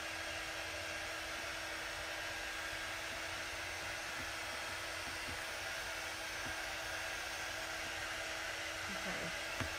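A Chalk Couture quick dry tool blows a continuous, even whoosh of air like a small hair dryer, running steadily close by without pause; no voices.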